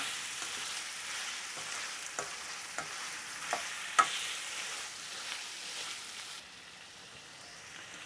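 Onion, ginger and garlic sauté in ghee with spices for a white chicken kurma, making a faint, steady sizzle broken by light scrapes of stirring.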